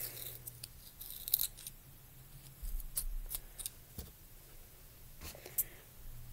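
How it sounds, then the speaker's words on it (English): Pencil being cut to size with small scissors or a blade, a few short crisp snips and scrapes, close and quiet with soft handling noise. "You just gotta cut a pencil to the size you want it."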